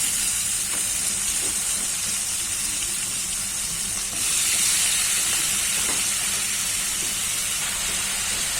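A steady, loud hiss of eggplant sizzling in a hot pan, continuous throughout with a slight swell partway, no talking.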